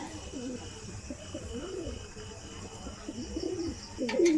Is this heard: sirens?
no